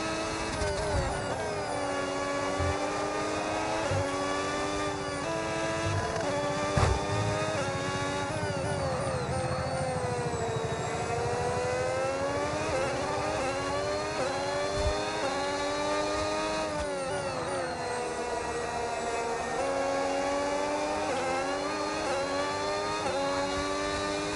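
Continuous high-revving engine whine of an F1 race car in the F1 26 racing game, with pitch sweeping up and down through gear changes, steady and loud throughout with no talk.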